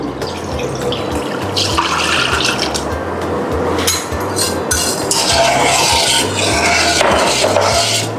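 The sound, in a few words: pouring pandan water into agar-agar mixture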